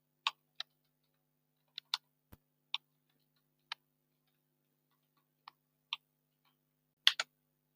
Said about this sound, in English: So now I will type my password.